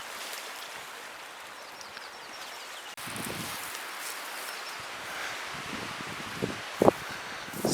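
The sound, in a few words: wind blowing, rustling leaves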